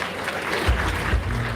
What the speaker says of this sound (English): She deserves another applause.